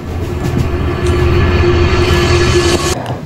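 A passenger train runs steadily along the rails, a continuous close rumble and rattle of the coach with a sustained hum, heard alone without talk.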